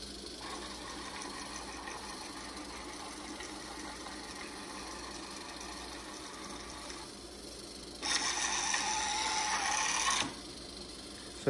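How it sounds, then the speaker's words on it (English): Closed-loop NEMA 17 stepper motors driving 3D-printed linear actuators make a steady whirring, buzzing hum with a tonal whine. A brighter, louder stretch near the end stops abruptly. "I'm going to turn the power onto the motors and then I'm going to cycle my program."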